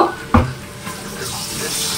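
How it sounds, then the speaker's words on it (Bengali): Spice paste frying in a pan for a Bengali katla fish curry, a steady close sizzle with a sharp clink of a utensil against the pan near the start. "তো এখন হচ্ছে মশলাটা ভাজা হচ্ছে"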